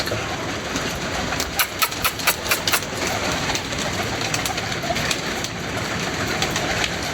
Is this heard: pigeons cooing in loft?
yes